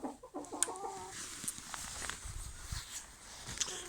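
Chickens in a backyard henhouse, including a bantam rooster, giving soft scattered clucks and short calls alongside faint scratching and footsteps, fairly quiet and close, with no one talking.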